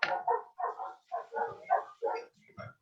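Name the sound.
neighbour's dogs barking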